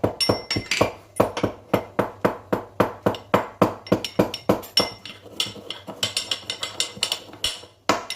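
Rapid, sharp pounding of ingredients in a pestle and mortar while making piyush, a Maharashtrian cold drink, close and loud, a fast rhythmic series of hard ringing knocks that loosens into lighter, irregular taps toward the end.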